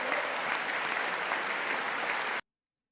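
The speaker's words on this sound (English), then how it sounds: "Why wouldn't they clap for that?" Steady audience applause fills a joint address to Congress, dense and sustained before cutting off abruptly; no one speaks over it.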